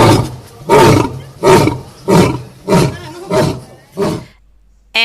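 A lion roars six times in a steady rhythm, each a loud, deep, rasping bellow about half a second apart, fading slightly toward the end before a short final burst.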